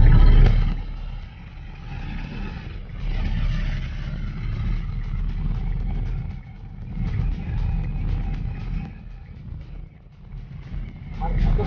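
A motorcycle engine hums steadily during a ride, a low rumbling drone with a brief dip in the middle, while people talk over it.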